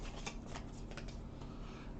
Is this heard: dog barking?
no